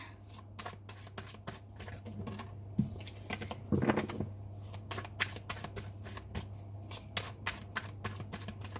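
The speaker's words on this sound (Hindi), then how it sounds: "मैं दोबारा से कुछ और कार्ड्स निकालूंगी" Tarot cards are shuffled and drawn close up, a run of quick riffling flutters and soft slaps, with faint muffled sounds in the background.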